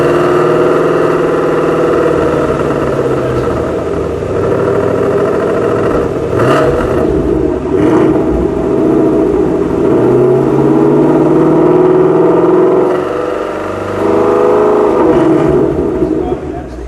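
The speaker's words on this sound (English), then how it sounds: "Give me a little exhaust tone" A white 2017 Ford Mustang Shelby GT350R blips its exhaust in a series of loud, close revs rising and falling over a steady idle rumble, with faint voices in the background.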